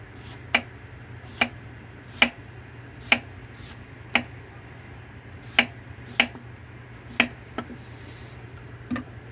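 A knife slices Armenian cucumbers into thin slices on a board, about a dozen crisp, evenly spaced cuts close by over a low steady hum, with no talking.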